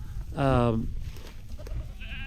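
A goat gives one loud, close bleat near the start, then a fainter bleat follows at the end amid farmyard background noise.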